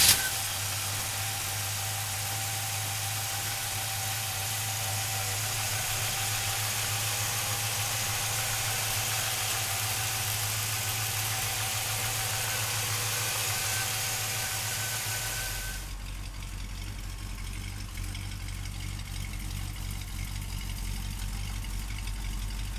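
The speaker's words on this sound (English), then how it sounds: "let's fire this 383 up" A 383 V8 engine in a 1941 Ford pickup truck rumbles at a steady idle, close by, its low drone shifting deeper partway through, with no voices.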